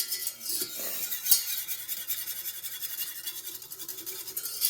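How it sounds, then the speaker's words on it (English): Roux sauce whisked vigorously in a pot, making a steady close scraping and swishing that keeps an even, continuous rhythm with no talking. "I'm going to pause this and continue to whisk"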